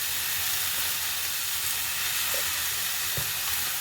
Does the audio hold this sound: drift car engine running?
no